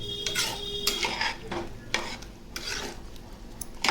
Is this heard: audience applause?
no